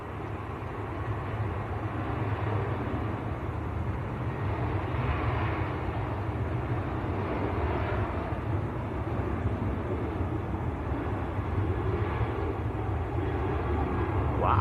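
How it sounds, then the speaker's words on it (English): Maltese-registered Ryanair airliner at Manchester Airport, a steady low jet roar held at an even level throughout, moderately distant, with a slight swell near the end. "Maltese registered Ryanair, this one."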